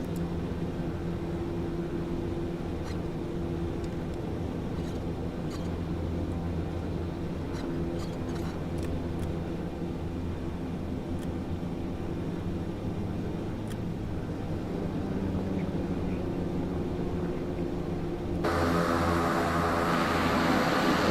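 Turboprop aircraft engine droning steadily as the plane taxis in a study-level flight simulator, a constant low hum with a louder broadband rise near the end.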